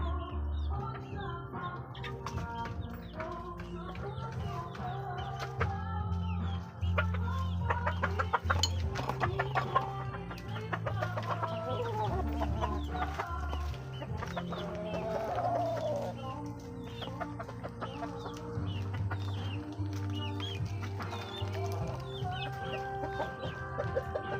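Several hens clucking and calling nearby, repeated irregular clucks over a steady low background hum.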